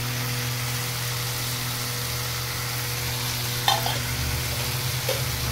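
Boiled banana flower frying in a pan, giving a constant close sizzle with a low steady hum underneath and a couple of brief stirring clinks near the end.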